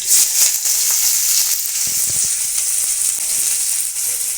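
Chopped onion hits hot oil tempered with cumin and four green chillies, giving a loud, close, steady hiss of frying with a few faint clinks and no voices.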